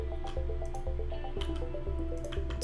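Repeated soft squishing, dripping splashes of water being placed in Minecraft, several wet plops in an uneven rhythm over a low steady background hum.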